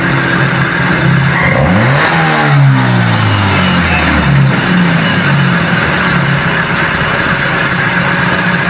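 A carbureted Toyota 4AF engine revving as the throttle is opened, the note sweeping up and back down once over steady idle, loud and close with a constant mechanical hum throughout.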